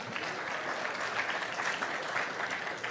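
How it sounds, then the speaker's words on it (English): An audience at a church talk on Bible history applauds, a dense, even patter of many hands clapping at moderate distance for a few seconds without a break. "Yeah, you can clap, that's fine."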